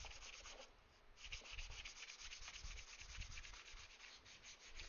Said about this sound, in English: So we can afford a little sanding.